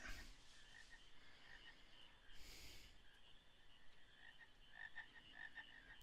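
In the video game Final Fantasy IX, frogs croak softly amid a quiet ambient background, with a few faint croaks and brief breathy bursts scattered over several seconds.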